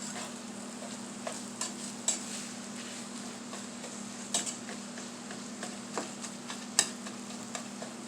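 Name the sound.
stirring sizzling hamburger meat with a spatula in a pan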